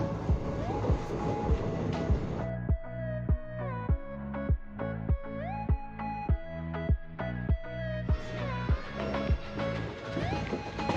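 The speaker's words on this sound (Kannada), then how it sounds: "ನಮ್ಮ ಟ್ರೈನ್ ಬಂತು ಬರ್ರಿ ಹತ್ತೋಣ." A train running toward Mysuru rolls along with steady clickety-clack beats from the rails, under a droning tonal whine that shifts in pitch; no talking.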